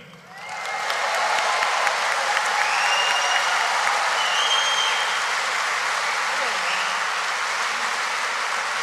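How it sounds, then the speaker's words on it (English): A conference audience breaks into loud applause and cheering for a guest actor, the sound swelling within the first second into a broad, sustained roar of clapping with occasional whistles that carries on to the end. "Could you please give a cheer for David Hayman?"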